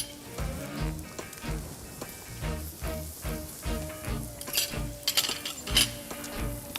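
A thin minute steak sizzles in a hot pan, a steady frying hiss broken by rhythmic low thumps and a few bright clinks of utensils against the cookware.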